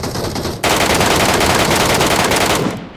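Automatic gunfire from a bot in PUBG, a dense unbroken burst of rapid shots lasting about two seconds, loud and close, following a brief moment of background game noise.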